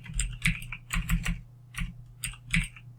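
Keys on a computer keyboard are tapped in short, close bursts of a few clicks each, separated by brief pauses, with a faint steady hum beneath.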